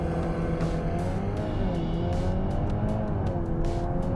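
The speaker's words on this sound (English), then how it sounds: "We're going to go on the throttle and let go." A Mk8 VW Golf R with all-wheel drive and DSG launches hard under launch control for a 100-metre sprint, its engine note rising steadily through the run, loud and close with no talk over it.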